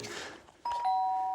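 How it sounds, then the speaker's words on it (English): A two-tone doorbell chime, a ding followed by a lower dong, rings out clearly and lingers after some faint clatter. "Oh, why does the doorbell always go while I'm doing the washing up?"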